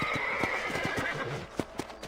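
A horse in the Red Dead Redemption video game whinnies loudly and close by while hooves clip-clop beneath it, the neigh carrying across the whole short moment.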